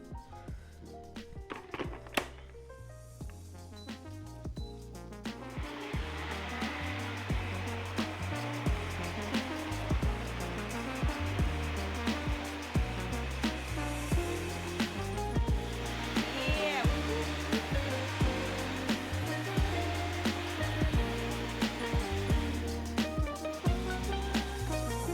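A blender whirs loudly and continuously through an avocado recipe, starting after a few seconds of quieter clatter, then a dense, churning motor roar that holds steady to the end.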